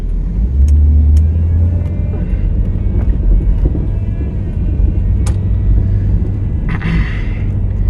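A car with a Corvette engine idles with a deep, steady rumble close by, loud and constant, with a few faint clicks and a brief whoosh.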